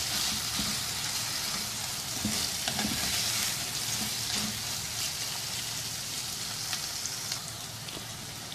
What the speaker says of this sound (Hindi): कीमा शामिल कर देंगे इसमें। अच्छी तरह से भून लेंगे इसको 1-2 मिनट।